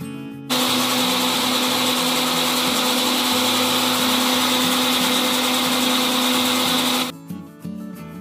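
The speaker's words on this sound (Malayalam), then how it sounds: "ഇനി നമുക്കിതെല്ലാം കൂടെ മിക്സിയിലിട്ടൊന്ന് അടിച്ചെടുക്കാം." A mixer grinder blends raw papaya juice, a loud steady whirring motor running without pause for about six and a half seconds before it cuts off, leaving a few faint knocks.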